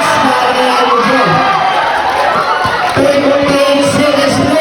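Spectators at a local basketball game cheer and shout loudly after a shot, a dense roar of voices with high yells that swells again near the end and stays close and sustained.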